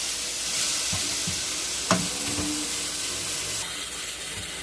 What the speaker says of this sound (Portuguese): Mas eu vou deixar aqui refogando direitinho.